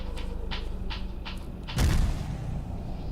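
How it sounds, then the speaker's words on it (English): Several sharp thuds pop in a loose series, then a louder booming explosion rumbles and fades, explosions in the video game Surviving Megatropolis. "Did not like those explosions."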